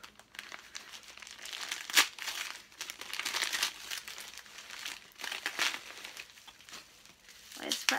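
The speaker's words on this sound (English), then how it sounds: "There's like literally wrapping paper everywhere." Wrapping paper crinkles and rustles in irregular bursts close by as a gift is unwrapped, with a person talking softly over the handling.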